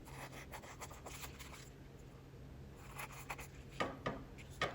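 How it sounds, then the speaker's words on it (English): Scissors snip and rasp close by, trimming paper edges right up against a glued index journal card, in short bursts of quiet cuts with a brief pause midway. "we're just going to cut it all off, the edges, right up next to the card"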